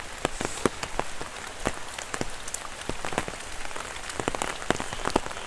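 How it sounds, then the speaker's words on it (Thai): Storm rain falls steadily on a rural Thai homestead, with close, distinct drops pattering and tapping on a hard surface over a constant hiss of rainfall and no voices. "ฝนตกมาแล้ว"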